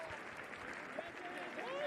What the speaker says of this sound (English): Nakara coming on for Kazuma Yamaguchi, who gets a warm round of applause